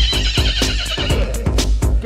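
A horse neighs and whinnies repeatedly in a rhythmic, looping pattern, loud and close, with clip-clop hoof sounds blended in and no talk over it.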